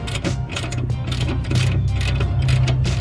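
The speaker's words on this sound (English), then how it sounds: "use a 19, and we'll remove the lower bolt to the lower mount of the suspension" Ratchet wrench with a 19 mm socket loosening a lower suspension mount bolt on a Lexus, rapid clicking ratchet strokes in quick bursts over a low steady hum, close and clear.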